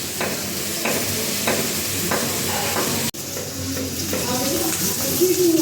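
Bay leaf and whole garam masala with fried egg and potato sizzling in oil, a steady close frying hiss with repeated stirring knocks and scrapes from a spatula, one brief break midway.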